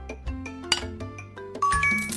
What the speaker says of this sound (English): Add one spoon of sugar.